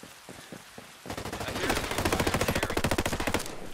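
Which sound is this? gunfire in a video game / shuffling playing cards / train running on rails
gunfire in a video game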